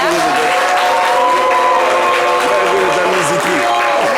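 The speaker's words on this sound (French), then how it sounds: "Applaudissez-la" A television studio audience claps for a female guest, a dense burst of applause mixed with voices and a few cheers, steady and loud throughout.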